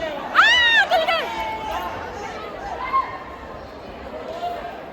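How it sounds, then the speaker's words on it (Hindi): Dense crowd at Srirangam temple, a busy murmur of many voices with nearby chatter and a couple of louder calls over the continuous babble. "यार बहुत भीड़ है, बहुत ट्रैफिक है इधर"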